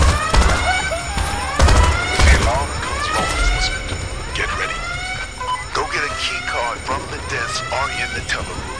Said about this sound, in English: The alarm goes wrong, Elizabeth.